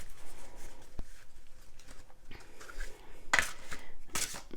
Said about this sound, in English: I always have such a hard time shuffling these cards, so I don't shuffle them too much because the cards are so big